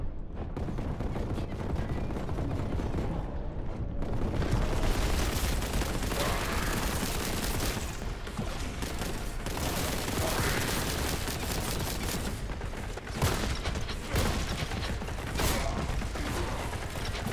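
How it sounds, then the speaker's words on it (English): A Reaper autocannon in the video game Warhammer: Boltgun fires dense, sustained bursts, producing a loud continuous mechanical clatter of rapid shots layered with ratcheting and gear-like noise. "That's not a Reaper chain cannon. That's a Reaper auto cannon."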